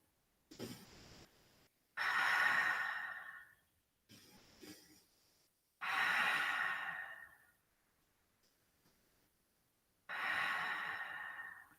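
Slow, deep breaths during a yoga forward fold over the right leg, with three long, airy exhales separated by quieter inhales and pauses, close and soft, with no talking.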